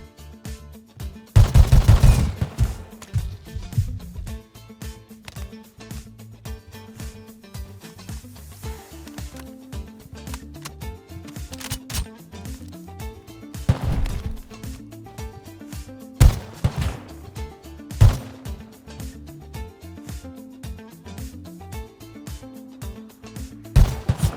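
Gunfire in the survival video game Rust: bursts of rapid shots, some loud and close, others scattered, over a continuous game ambience and a repeating musical pattern, no talk.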